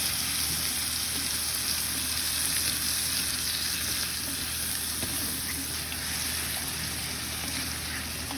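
Catalan fideua ingredients with sofrito sizzle and fry steadily in a pan, a loud continuous crackling hiss with faint stirring scrapes throughout, no voices.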